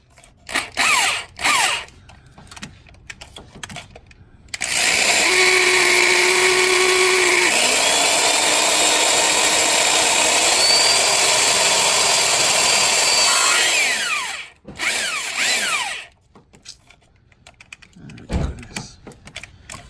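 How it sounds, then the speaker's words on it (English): A power drill whines loudly and steadily for about ten seconds while car wiring is being installed, with short mechanical knocks and handling noises before and after. "As soon as I drill it, it gets stuck."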